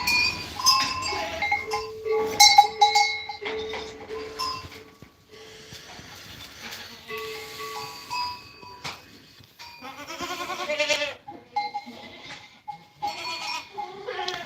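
Goats bleating repeatedly on a farm, several loud close calls and higher kid cries with clanking cowbells between them, a voice speaking briefly in between.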